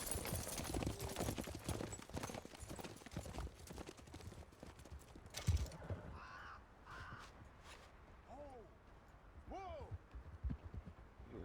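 Horse hoofbeats clip-clop in a steady rhythm as riders set off in Red Dead Redemption 2, loud at first under shouted voices, then fading, with crows cawing in the quieter stretch.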